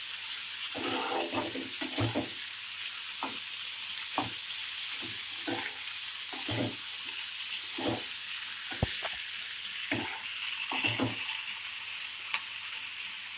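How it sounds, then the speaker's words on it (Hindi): Punjabi-style mixed winter vegetables cook uncovered in a pan, giving a steady close sizzle broken by repeated scraping stirs, with no talk. "इसको अच्छे से पकने देंगे, इसको ढकना नहीं है।"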